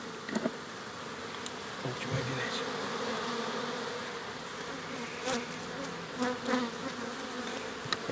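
A swarm of honeybees at a hive in an apiary, a dense continuous buzzing drone that stays steady throughout, close and fairly loud, with a few faint knocks and handling sounds.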